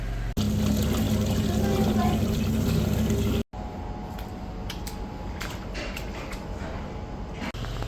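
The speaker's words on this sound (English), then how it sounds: "You can see the filtered water going through the outlet, which will go into the main drain." Filtered water from a cleared blocked drain pours through an outlet into the main drain, a steady gushing flow that cuts out briefly partway, then continues more softly.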